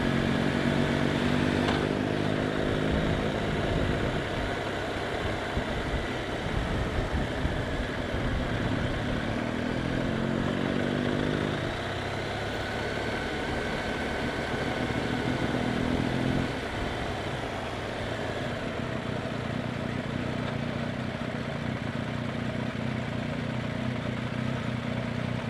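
A motorcycle rides along a country road in Wiltshire, its engine droning steadily up close with shifts in pitch as it changes gear and speed, wind rush underneath throughout and no voices.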